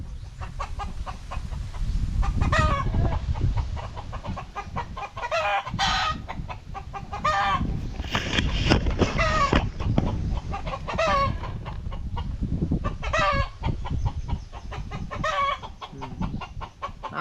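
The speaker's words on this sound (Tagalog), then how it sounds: "Ay, galit sa iyo ang manok." Chickens cluck steadily in a farmyard with repeated sharp calls and rooster crows cutting through, fairly close and continuous, with no talking.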